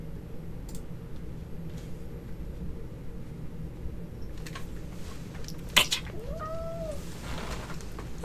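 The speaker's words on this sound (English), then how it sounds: "Here's the black cat named Smokey." A black cat gives a short meow or two up close, late in an otherwise quiet indoor stretch with faint background hum.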